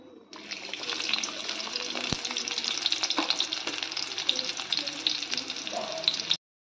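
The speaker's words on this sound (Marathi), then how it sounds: "जिरं मोहरी तडतडली की आपण कांदा टाकून घेऊया" Chopped onion fries in hot oil with cumin and mustard seeds for a spiced eggplant dish, a loud continuous crackling sizzle with a few faint clinks that stops abruptly at the end.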